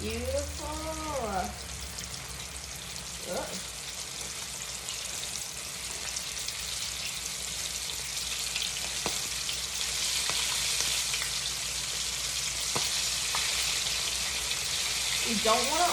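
Chicken wings fry in a hot cast iron pan with a dense, steady sizzle that swells slightly over time, while a person briefly makes a few short vocal sounds and utensils clink near the start and end.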